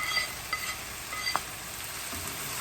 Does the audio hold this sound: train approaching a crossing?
no